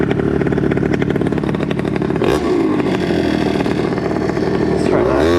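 A Honda Dio 120cc stroker scooter engine idles loud and close with a fast buzzing putter, briefly dipping and swelling as the idle is adjusted, while someone talks over it.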